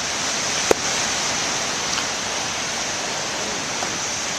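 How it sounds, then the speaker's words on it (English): Ocean waves at Beavertail Lighthouse on the Rhode Island coast, a continuous broad roar of surf washing steadily with no distinct breaks, close and fairly loud, plus one brief sharp knock. "Got some waves here."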